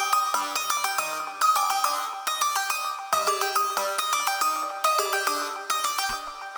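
A layered beat melody plays as bright, bell-like synth notes in repeating phrases, loud and up front, with short gaps between phrases and a brief low thump near the end.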